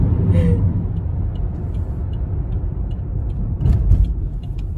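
A car rolls slowly through a parking lot with a steady, loud low engine rumble and road noise, a brief brakey hiss near the start and a bump of louder rumble toward the end, with no clear talk.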